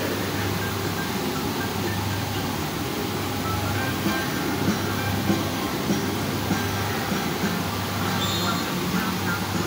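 A train running with a steady, continuous low rumble and rolling wheel noise, holding at an even level throughout with no voices.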